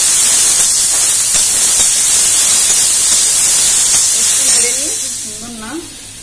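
Pineapple pieces dropped into hot oil for a pineapple and fish roe chutney, a loud broad hiss of frying that fills the space and then eases, with a brief voice near the end.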